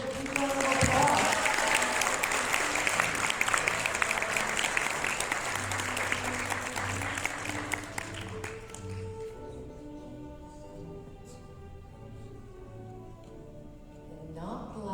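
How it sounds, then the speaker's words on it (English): An audience at a criminal justice honor society conference opening ceremony bursts into loud, sustained applause that fills the room for about eight seconds, then fades into quieter scattered claps under a voice. "Give her a big round of applause."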